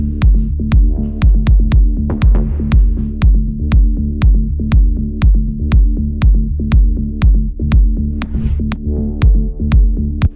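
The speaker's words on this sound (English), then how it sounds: "All together, the bass sounds like this with the kick." A deep synth bass preset built in Wavetable pulses in a steady rhythm with a punchy kick drum, both loud and upfront, with dozens of evenly spaced thumps across the loop and no voices.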